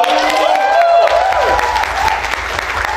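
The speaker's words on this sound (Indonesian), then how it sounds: "Tepuk tangan dulu." A church congregation claps at a 25th anniversary Sunday service, dense applause over sustained tonal sound that gradually eases.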